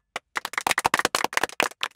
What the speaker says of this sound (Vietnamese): Ai đồng ý thì vỗ tay nào